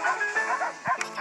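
A cartoon dog barks in the puzzle game Trollface Quest Sports, a few short yapping barks close up over a busy game music background.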